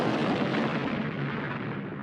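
A huge cannon blast, rendered as a dense sustained roar of rumbling explosion noise filling the whole moment, loud and close with no other sounds.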